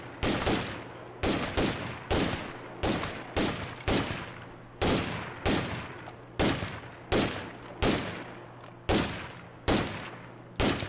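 Repeated gunfire while shooting zombies in State of Decay 2, about a dozen loud, evenly spaced bursts roughly every second with ringing decays and a steady low hum beneath, no talking.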